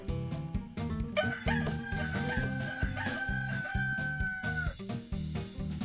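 A rooster crows a single long, loud cock-a-doodle-doo, close and clear, with rhythmic music playing underneath.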